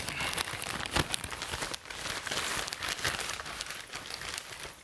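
A black plastic shipping bag around a Peak Design 45L travel backpack is torn open and crinkled, a steady crackling rip with sharp bursts near the start, up close and with no talking.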